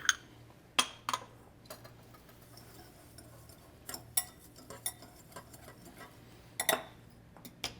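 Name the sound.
mixing panko breadcrumbs and Parmesan cheese in a bowl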